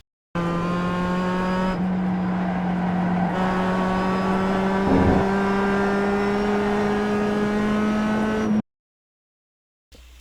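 Mazda MX-5 race car in iRacing at Laguna Seca, its engine droning steadily with rising pitch as it accelerates, loud and close throughout, briefly dropping off near the end with no talk.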